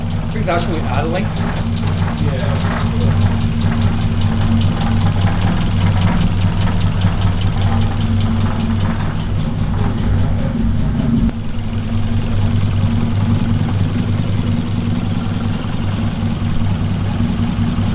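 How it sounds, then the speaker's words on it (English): A Toyota AE86 with a swapped 3S-GE Beams engine idles with a steady low rumble and rapid ticking for a long stretch, while people talk over it. "This thing's actually idling."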